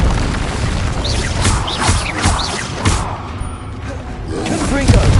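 Incendio fire spell cast in a Harry Potter video game, a burst of whooshing, crackling blasts and booms in quick succession, loud and close, with a voice shouting over the effects.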